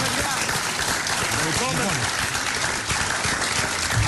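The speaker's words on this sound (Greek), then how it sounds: "Τι χειροκρότημα ήταν αυτό." An audience claps for an Athens band at a radio show. The applause runs steadily through the whole stretch, dense and fairly loud, with a voice talking over it.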